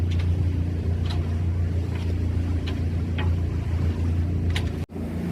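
A sailing boat motoring at a quarter throttle near ten knots off the Mull of Kintyre, giving a steady low engine drone with rushing water, fairly close and unbroken, with a brief dropout near the end.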